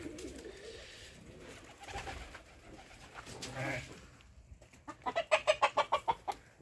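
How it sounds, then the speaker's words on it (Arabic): Chickens and pigeons in a coop: soft cooing and murmuring birds give way to a loud, close run of rhythmic clucking calls near the end. "هذا كوخ الدجاج خوتي"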